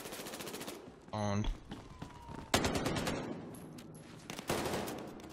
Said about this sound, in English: Why does this gun sound like an AK? This is a Tech 9.